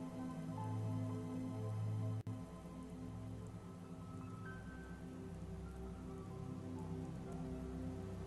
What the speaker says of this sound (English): it sounds like it's raining here too, Spider